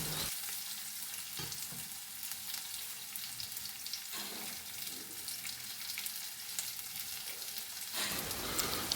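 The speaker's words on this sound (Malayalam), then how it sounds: "നന്നായിട്ട് ഇളക്കി ഒന്ന് വഴന്ന് കിട്ടട്ടെ കേട്ടോ." Raw banana and onion sautéing in a hot pan, a steady close sizzle with scraping stir strokes at intervals and no voices.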